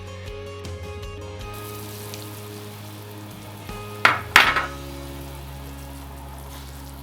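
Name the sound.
carrots and daikon sizzling in oil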